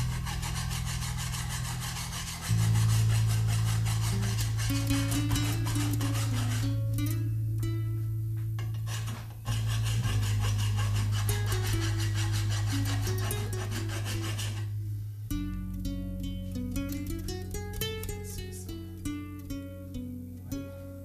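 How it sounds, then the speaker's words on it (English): A metal file rasps across the soft steel body of a hand plane blade in long, rhythmic strokes, each a steady grating scrape broken by short pauses, close and loud with no talk. "Only at the soft part of the blade body I can remove material with the file."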